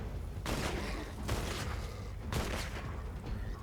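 A big enemy bursts apart after an Affliction weapon headshot in a shooter video game, a series of loud, broadband explosive bursts, three heavy blasts spaced about a second apart over a constant rumbling battle din.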